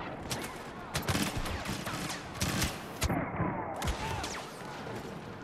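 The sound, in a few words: gunfire in a Star Wars video game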